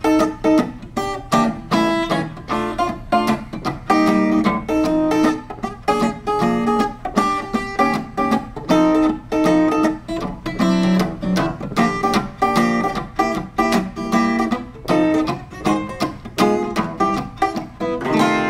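A bebop-style blues is played as a busy, continuous instrumental passage of rapid chord changes and dense note runs. It runs steadily for its whole length with no voices.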